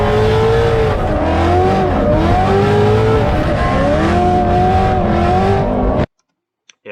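A drift car's engine roars steadily on throttle, loud and close, with shifting revs and tire noise for about six seconds before cutting off abruptly into near silence.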